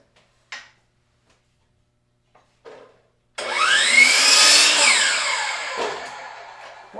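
After a few small knocks, a circular saw cuts off a small piece of scrap wood, a loud whining buzz for about three seconds that winds down.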